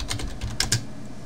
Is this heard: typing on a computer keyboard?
yes